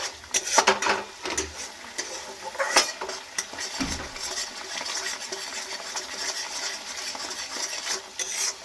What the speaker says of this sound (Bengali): কিছুক্ষণ আরও আমি কষিয়ে নিচ্ছি